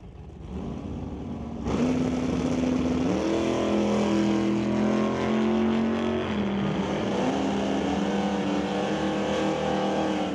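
Two drag racers, a 1972 Chevelle and a 1966 Chevy II, roar down the track with loud, sustained engine drone and shifting pitch, tones rising and stepping as they accelerate.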